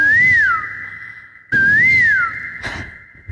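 A performer on a stage comedy show whistles an imitation of a koel's call. It comes as two loud, close, rising-and-falling phrases, each with a sustained tone after it, and there is no talking.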